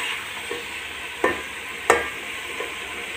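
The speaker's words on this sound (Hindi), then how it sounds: "तो ये सारी चीज़ें अच्छी तरह घी में फ्राई करती हूँ पहले" Ingredients frying in ghee give a steady close sizzle, broken by a couple of sharp utensil clinks from stirring.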